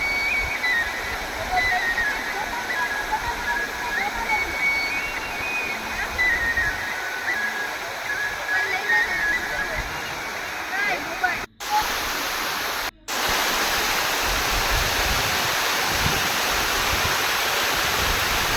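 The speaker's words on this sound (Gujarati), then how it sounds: "રસ્તામાં જે એક ધોધ જેવું આવે છે" A roadside waterfall on a rainy hillside at Patanvav rushes in a steady, broad hiss of falling water, with faint voices and whistle-like cries drifting over it and two brief dropouts near the end.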